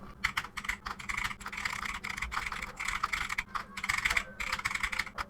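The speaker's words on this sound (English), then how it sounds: "And after the selection, I start typing." Typing on a computer keyboard while writing in Google Docs, a steady run of close, crisp key clicks in quick bursts with brief pauses.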